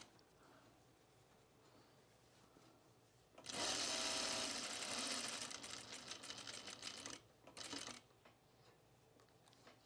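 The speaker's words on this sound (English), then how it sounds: "I have this particular way I sew this dart so that it fits me better" Sewing machine stitching a dart in a self-drafted blouse with a short stitch length and a size 14 needle, a loud steady whir for about four seconds, then a brief second burst, close by.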